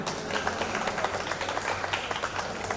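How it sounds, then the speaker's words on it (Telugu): Applause from the audience at a 2001-2002 alumni reunion in Gummadavelli, honouring the meet organizers; steady, dense clapping from a crowd held at moderate level throughout, with no one speaking over it. "వాళ్ళకు కూడా గట్టిగా చప్పట్లు కొడదాం"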